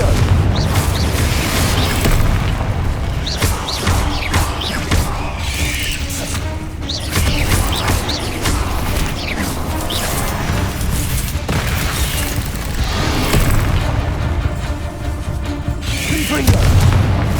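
Repeated booming blasts of the Confringo fire spell in the Hogwarts Legacy video game, loud and dense crashes with rumbling impacts during a spider fight, layered with game effects and a voice shouting spell names.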